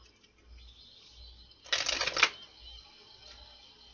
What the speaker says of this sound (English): Let's get 2 more shuffles, my guides.